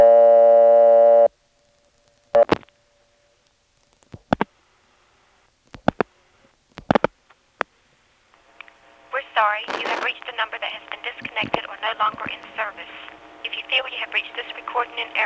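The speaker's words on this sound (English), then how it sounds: "Let's try dialing just 8 plus 411 and see what happens." A call on a 1977 step-by-step exchange in Belhaven, North Carolina: a steady dial tone cuts off, then a few sharp clicks and pulses follow as 8 plus 411 is dialed, and a voice recording answers on the line.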